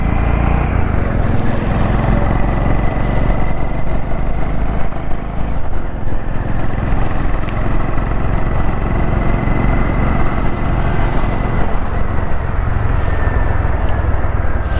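Honda CB350 motorcycle cruising along Sarjapur Road, a steady loud engine drone with broadband road and wind rush running unbroken throughout, no voices.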